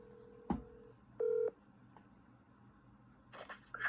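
Telephone keypad dialing with DTMF tones, a single short beep followed by a longer held tone and then a faint tone, with clicks and some noise near the end; no speech.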